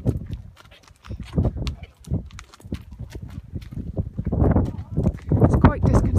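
Horse hooves clip-clop at a walk under a rider, close and steady, with people talking over the footfalls throughout.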